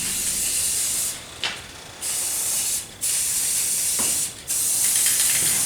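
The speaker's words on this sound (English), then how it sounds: "I got what blue I had sprayed on there" Spray gun laying blue paint over bondoed car body work outdoors, four long steady hissing bursts up close separated by short gaps, no talking.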